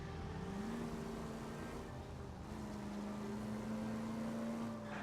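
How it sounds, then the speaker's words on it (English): Cars in the video game L.A. Noire drone along with a steady engine hum that rises and falls in pitch as they move, continuous and moderately loud, with no talking. "God, some of these cars drive erratically."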